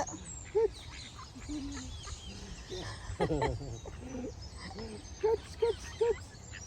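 Ducks feeding in London, several short quacks and clucking calls near and far, a brief flurry of splashing and pecking in the middle, with faint background voices now and then.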